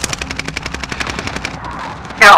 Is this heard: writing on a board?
no